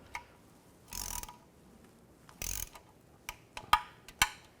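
A hand ratchet tightens the oil pan bolts on a 2011-2014 Chrysler 200: a few quick bursts of clicking, then single sharp metallic ticks and clacks, close up against quiet shop background.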